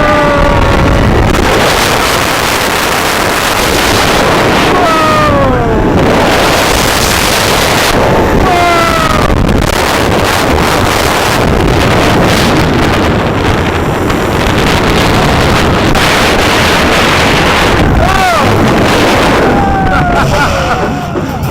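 Griffon, a B&M dive coaster at Busch Gardens Williamsburg, heard from on board: loud, constant wind roar and rushing track rumble buffet the microphone throughout, with riders' screams rising and falling over it.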